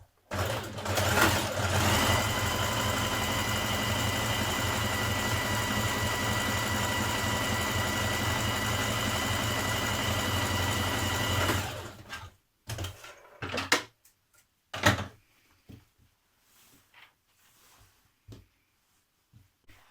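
A sewing machine runs continuously for about twelve seconds, stitching the centre back seam of a sports bra, with a close, steady motor whir and rapid needle chatter, then stops, leaving a few brief handling knocks and rustles.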